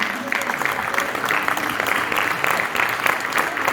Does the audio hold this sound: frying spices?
no